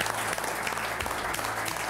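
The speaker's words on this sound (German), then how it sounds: "Also, großen Applaus." Hearty applause from a group of people in a restaurant: dense, even clapping from many hands, close and fairly loud, continuing without pause and with no talk over it.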